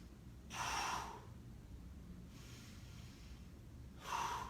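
Two deep, forceful breaths during a fitness exercise, a long exhale followed after a pause by another, close to the listener and alone without talk.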